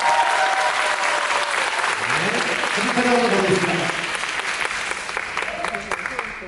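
An audience at a tap dance competition award ceremony breaks into loud, dense applause that carries through, slowly thinning toward the end while someone speaks briefly over it.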